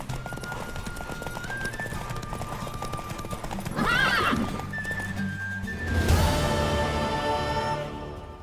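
Horse hooves clip-clop steadily with a whinny and neigh in The Witcher 3 video game, set against in-game music and ambience, with a louder burst of activity near the end.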